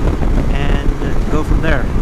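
Strong, steady wind buffets the microphone throughout a motorcycle ride in Patagonia near Lago General Carrera and Los Antiguos, a constant loud roaring rumble with a few faint voice-like traces on top.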